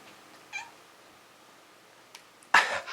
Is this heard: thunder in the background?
no